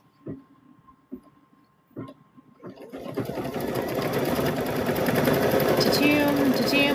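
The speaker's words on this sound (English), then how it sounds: "This should quilt fairly quick here." Quilting sewing machine stitching a patchwork lap quilt: a few soft clicks, then the motor starts up into a steady, loud, fast rattling hum that continues to the end, with a faint voice in the background.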